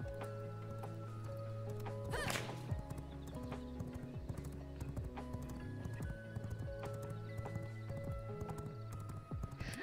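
Horse in the video game V Rising, hooves clip-clopping in a steady rhythm with a whinnying neigh partway through, close and moderately loud over faint background ambience.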